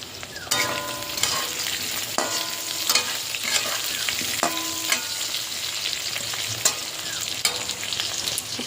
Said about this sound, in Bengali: হচ্ছে মাছের ঝোল।